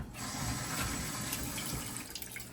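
Water running steadily from a tap while food is washed for a rice and peas and jerk pork dish, a soft continuous splashing rush, close and without talk.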